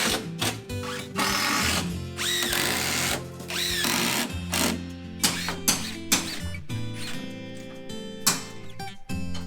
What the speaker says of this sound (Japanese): 後ろはもう見えませんからビスで止めます。